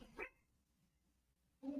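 A dog gives a short, faint bark indoors, then a second bark comes after a pause of over a second.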